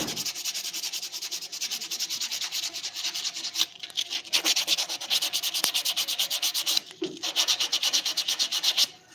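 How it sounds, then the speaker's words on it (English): A wooden dresser knob is rubbed with sandpaper in quick, steady rasping strokes, close and loud, with brief pauses and no talk. "let's go ahead and get it with the sandpaper because it takes off just a little bit more here"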